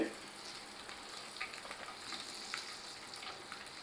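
Eggs fry in hot oil for an egg masala, giving a soft, continuous sizzle with faint crackles and pops throughout. Quiet and steady, with no talking.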